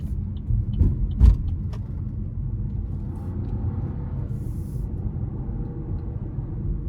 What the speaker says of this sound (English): it tends to rev higher with the manual shifts as you keep your foot down